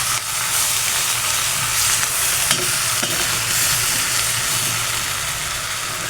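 Eggplant with garlic and salt hisses loudly in a frying pan as it is stirred, a dense continuous sizzle with a few scraping knocks from the utensil.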